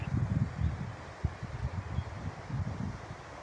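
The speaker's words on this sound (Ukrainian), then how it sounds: "але дуже сильний вітер." Steady strong wind through swaying pine trees in a forest, a broad whooshing roar that swells and eases, with soft low buffeting against the microphone.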